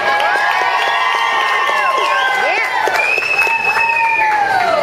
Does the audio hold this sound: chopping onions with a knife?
no